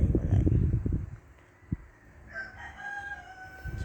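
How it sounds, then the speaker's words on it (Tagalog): Several roosters crow in a rural yard: one close, loud crow opens, and more distant crows follow in long drawn-out calls with faint clucking. There is no talk. "Sorry sa mga manok, ang daming manok eh."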